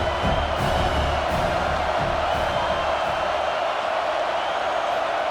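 A large stadium crowd in EA College Football 26, at a Colorado at Utah game, roars and cheers continuously in a broad, distant wash of noise, with a few louder shouts.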